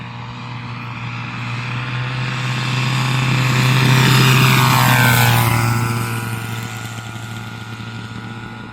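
A DLE-222 gas engine on a large P-47 model plane drones loudly and steadily, with an uneven, misfiring beat. It swells as the plane passes closest, then fades slightly.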